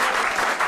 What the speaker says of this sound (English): Give our volunteer a round of applause.